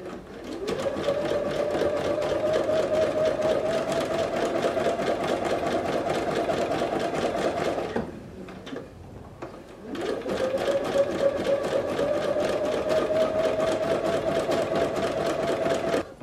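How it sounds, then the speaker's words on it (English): A sewing machine stitches a seam with the presser foot guiding it, running at a steady, fast, close hum, then pausing briefly for about two seconds before stitching resumes at the same even pace. "I'm going to use this part of my presser foot to go just right next to it."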